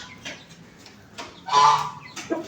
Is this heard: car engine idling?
no